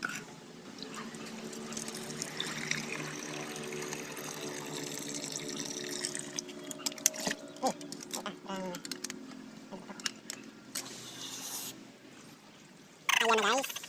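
Water poured over cassava roots being cleaned, a continuous close splashing and filling stream with clattering handling sounds, ending in a short louder burst.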